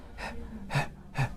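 A voice imitates panting breath: three short, breathy voiceless exhales evenly spaced, close and clear.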